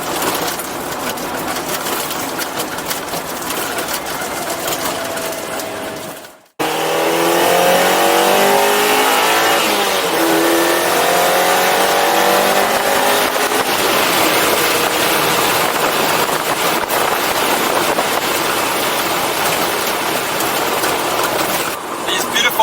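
A Mazda MX-5 Miata engine drones steadily while driving on country roads, with rising harmonic sweeps as it accelerates through gears; a brief cut near the start, with faint voices mixed in.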